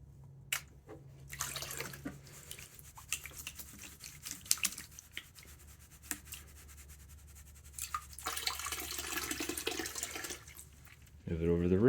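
Water sloshes and washes in a gold pan during gentle panning of fine material over the riffles while prospecting, a steady wet swishing with short splashes and a louder surge near the end; a voice speaks over it.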